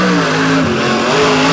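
A little black Jeep from Cedar Rapids, Iowa, makes a drag racing run, its engine revving hard and loud with a rising then shifting drone close by, no voices over it.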